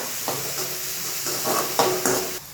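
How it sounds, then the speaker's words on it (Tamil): Onions stirred and sautéed in a hot pan, spatula scrapes recurring every half second or so over a steady sizzle, close and moderately loud with no talking. "வெங்காயம் நல்லா மிக்ஸ் பண்ணி விட்டுக்கணும். வதக்கணும் நல்லா."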